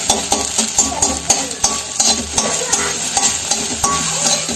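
Egg noodles stir-fried in a hot pan for egg chow mein, with steady sizzling frying and repeated scraping and tossing strokes of a spatula against the pan, close and fairly loud with no talking.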